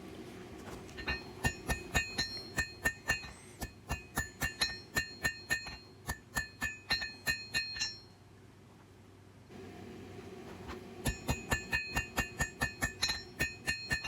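A hammer strikes 1/8 inch steel stock on an anvil while a small knife is hand forged, a fast steady run of bright ringing blows, then a pause, then the hammering resumes.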